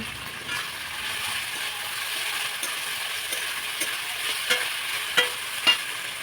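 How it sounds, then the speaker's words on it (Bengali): A spoon stirs paneer pulao masala in a kadai over a soft, steady sizzle, with scattered scraping taps against the pan that grow a little sharper toward the end. "এবার সুন্দর করে নাড়াচাড়া করব, যাতে নিচে না লেগে যায়, কড়াইটা যাতে না পুড়ে যায়।"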